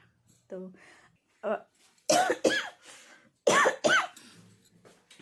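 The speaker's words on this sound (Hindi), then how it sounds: "गले में ना खराश जैसे आ गई है तो खांसी आ रही है" Someone coughs hard several times, the coughs coming in two quick pairs, close to the listener, after a few soft vocal sounds.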